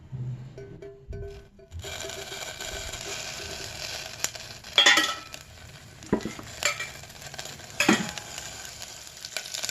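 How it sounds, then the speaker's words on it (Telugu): Tempering seeds such as cumin, mustard, chana and urad dal with dried red chillies sizzle and crackle in a hot pan on a stove for vegetable sambar, with a few sharper pops and utensil clinks over the steady fry. "ఇక్కడ పోపు గింజలు వేసుకున్నాను ఫ్రెండ్స్"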